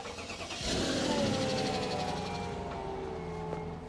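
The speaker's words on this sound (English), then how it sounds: "I'm going to turn the car on and we'll see if it's actually charging" A car engine starting, a short crank that catches and settles into a steady idle in a garage setting, fairly close.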